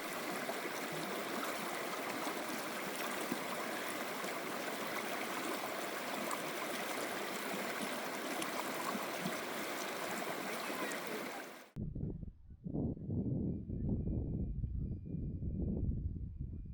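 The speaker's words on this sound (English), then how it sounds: "enjoy the sound of the water" An Idaho stream rushes in a steady flow for most of the clip, then it cuts to a quieter, gurgling trickle with low, uneven burbles.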